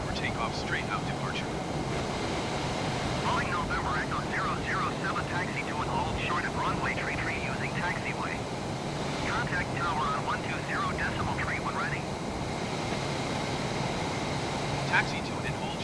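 F/A-18 Super Hornet jet taxiing in Microsoft Flight Simulator 2020: a steady, dense engine roar and rumble holds for the whole stretch, with faint voice-like murmurs over it.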